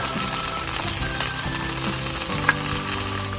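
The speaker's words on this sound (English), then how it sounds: "Mix it well and fry for a minute." A tomato mixture with turmeric, red chili powder and homemade karai masala frying in a pan for kadai mushroom, giving a steady, close, full sizzle with light stirring throughout.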